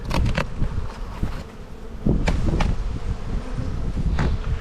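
Bees hum and buzz steadily around an opened backyard beehive during spring buildup in Australia, a dense close swarm drone with individual insects zipping past the listener.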